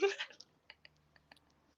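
Tongue clicks of the kind used to urge on horses: a loud opening burst followed by a quick series of sharp, dry clicks at an uneven rhythm, close and fading slightly, with no talking.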